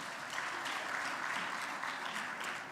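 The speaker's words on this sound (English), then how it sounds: "A round of applause for her." Audience applause at an education conference session in South Africa, a short, dense burst of clapping from a crowd, moderately loud and even throughout.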